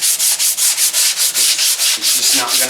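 Loud, rhythmic sanding strokes scrape back and forth across a Volkswagen Golf Mk4 body panel, a steady raspy hiss repeating about every quarter second, very close.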